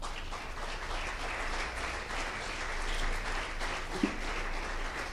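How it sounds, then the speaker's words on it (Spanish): A church congregation applauds in a continuous, fairly distant wash of clapping that holds steady for several seconds. "dele un aplauso al Señor"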